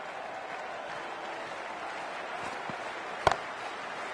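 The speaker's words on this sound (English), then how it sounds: "already the crowd is up and about" A broad, steady wash of crowd applause and cheering fills a cricket stadium in the Cricket 24 video game, with one sharp crack partway through.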